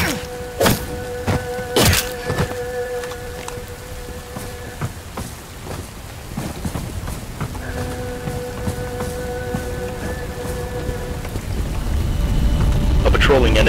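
Heavy rain falls steadily in the video game Bright Memory Infinite, with a couple of sharp thunder cracks early on and a dense, loud downpour that swells toward the end, under sustained game tones.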